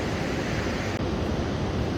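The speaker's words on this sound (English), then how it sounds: "Pacific Ocean." Pacific Ocean surf rolls in near Haystack Rock at Cannon Beach, a loud, continuous wash of breaking waves with wind buffeting the microphone.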